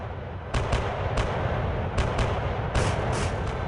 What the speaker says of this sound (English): Artillery thundered across the battlefield